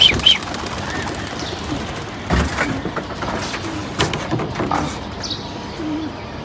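Domestic pigeons cooing outdoors near their loft, soft low coos scattered among rustling and wing flutters, fairly close, with faint voices in the background.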